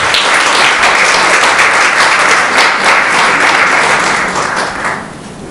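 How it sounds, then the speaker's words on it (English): Sustained applause from a school audience at a student speaking-competition final, steady and dense throughout, tapering slightly at the end with no talk over it. "let's give them one more round of applause for their hard work"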